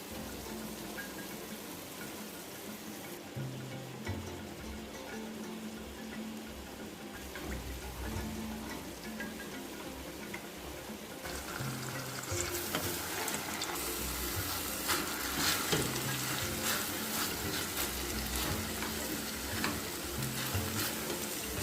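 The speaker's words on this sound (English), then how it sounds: "add it to the pot to fry" Drained pigeon peas for pelau fry in a pot with a steady sizzle that swells louder halfway through, mixed with stirring scrapes and a watery hiss, close and with no talk.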